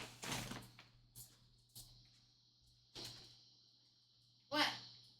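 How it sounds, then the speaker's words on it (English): A dog scratches at a door indoors, giving several short scraping and knocking bursts spread apart, with a louder rattling burst near the end over a faint steady hum. "You scratching at the door?"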